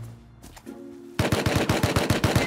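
Rapid automatic gunfire in the survival game Rust, a loud close burst of evenly spaced shots after a quieter moment of faint game sounds.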